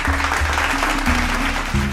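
Audience claps for Prime Minister Narendra Modi and Lieutenant Governor Manoj Sinha at a Swachh Bharat rural development event; steady crowd clapping under a loud sustained musical tone that shifts pitch.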